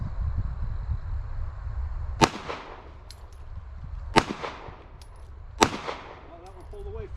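Three sharp, loud Glock 43 pistol shots fired at an IDPA target, spaced about two seconds apart, each with a ringing echo trailing off outdoors.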